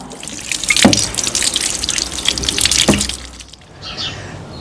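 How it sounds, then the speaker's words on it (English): Clay amphora rinsed under running water from a tap, a steady close splashing and trickling stream with a couple of brief sharper splashes, ending with a softer, lighter dribble. "And then I'll just rinse this off and put it somewhere in the sun."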